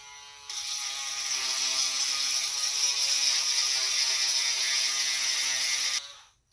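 A Dremel rotary tool grinds glue from around the edges of a doll head, giving a steady, high-pitched motor whine that starts abruptly, holds evenly for about five seconds, then cuts off.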